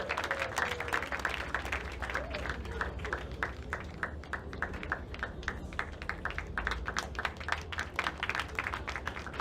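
Applause fills a hall at a graduation ceremony: many hands clap steadily at middle distance, a moderately dense and continuous patter that keeps an even level throughout.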